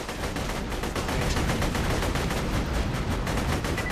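Automatic gun turret in Borderlands 2 firing a dense, unbroken stream of rapid shots, loud and close, with no pauses and no talk.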